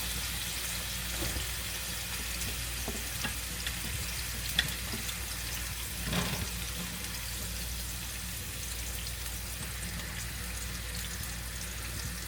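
Shaved beef steak for Philly cheesesteak fries in a hot pan, giving a steady, dense sizzle that holds level throughout with occasional faint scrapes and clicks.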